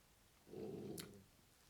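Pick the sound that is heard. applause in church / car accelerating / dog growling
dog growling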